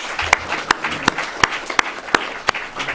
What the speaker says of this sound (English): I hope everyone in the audience will join me in a round of applause for our panelists here and for all of our speakers today